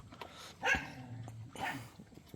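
Young puppies give two short, high-pitched barks or yips about a second apart, fairly close but not very loud, with quiet room sound between them.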